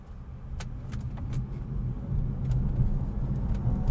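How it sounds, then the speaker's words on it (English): A 2015 BMW i3 electric car accelerating under full pedal, its motor a low, rising hum heard from inside the cabin over road rumble, building steadily with a few faint clicks and no talk. "you can really hear those electric, that electric motor really wind up and set you off"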